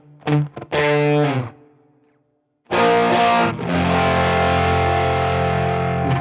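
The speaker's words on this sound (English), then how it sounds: "we've got a clean direct signal going, and the distortion also going parallel. Used a DS1 vintage" An electric guitar plays through a DS1 distortion on a Line 6 Helix, set up as a dark, dirty tone with a clean direct signal running in parallel. Two short chord stabs ring out, there is a brief pause, and then a long sustained distorted chord rings alone.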